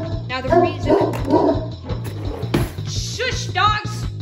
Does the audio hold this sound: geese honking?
no